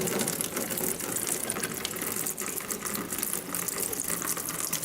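Coolant gushes out of a Suzuki DRZ400E enduro motorcycle into a drain pan as a steady, close, hissing pour that runs without a break.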